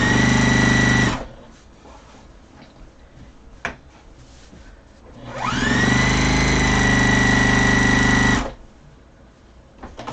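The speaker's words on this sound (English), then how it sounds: "I'm just going to lift my foot and sew along the bottom of the pillowcase" Domestic sewing machine stitching a hem along a pillowcase: two sustained motor whirs, the first about a second long and the second about three seconds, with a steady needle drone, separated by quiet handling and a brief click.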